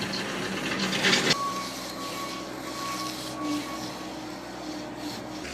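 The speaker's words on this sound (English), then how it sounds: "There's Ryan screeding out the concrete" Screed board rasping across wet concrete while smoothing it for exposed aggregate steps and walkways, a steady scraping rub with a sharper burst early on, over faint outdoor machinery hum.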